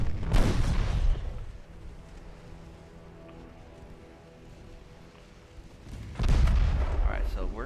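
Battleship gunfire in Ultimate Admiral Dreadnoughts: two loud, deep cannon blasts, one at the start and one near the end, each with a rolling boom, separated by a quieter stretch of low humming ambience.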